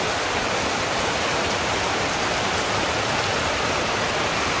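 Heavy rain pours down in a Bangladeshi village, a loud unbroken wash of drops spattering on surfaces, steady from start to finish with no other sounds standing out.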